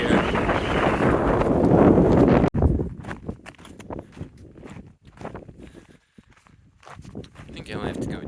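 Strong wind buffets the microphone atop a butte in Antelope Valley, a loud roaring blast for the first couple of seconds that drops off abruptly into quieter gusts, footsteps and shuffling.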